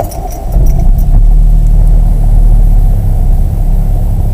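A cold car engine cranks and catches, settling into a loud, steady idle with low rumble that fills the clip, alone without talk.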